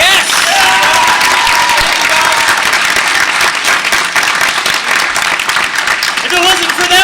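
Audience at a Calgary Expo 2014 convention talk applauds the volunteers with loud, dense clapping and some cheering, sustained steadily for about seven seconds.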